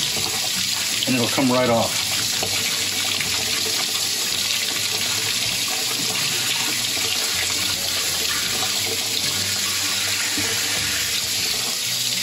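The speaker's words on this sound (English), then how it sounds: "You can try to rinse it off with warm water" Tap water gushes steadily into a sink while a glass beer bottle is rinsed, loud and close for about twelve seconds, with someone briefly speaking over the running stream.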